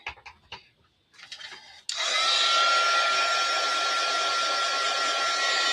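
Heat gun blasting steadily at close range while embossing a stamped card, a loud continuous blowing hiss that starts abruptly after a few soft handling taps and rustles.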